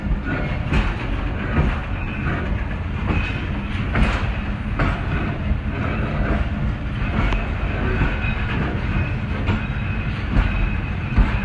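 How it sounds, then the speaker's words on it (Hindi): Pakistani 12 Down Hazara Express passenger train rolling on its tracks after leaving Jhang Sadar station: steady loud rumble with rhythmic clickety-clack wheel beats, heard close from on board, with no voices. "तो जंग सदर रेलवे स्टेशन को छोड़ चुकी है 12 डाउन हज़ारा एक्सप्रेस"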